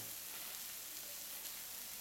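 Beef steak fries on a Bornholm granite plate, giving a faint, even sizzle like soft static that holds steady without pauses.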